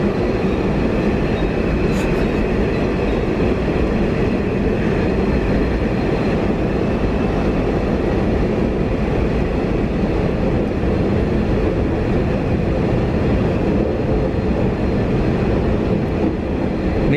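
KfW i9000 commuter train departing Purwokerto station, a loud, steady rolling rumble and rail noise from on board that continues without a break.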